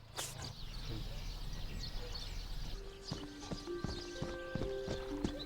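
Horses' hooves clip-clop at a ranch during race training, with steady outdoor noise early, then a run of distinct hoof beats and some tonal calls, under light background sound.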